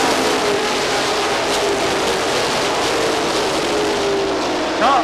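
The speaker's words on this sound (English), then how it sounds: "He stands on the throttle, and we are green." Pro stock race cars accelerating at Seekonk Speedway on the green flag, a loud sustained roar of several engines with a dense, continuous wash of sound.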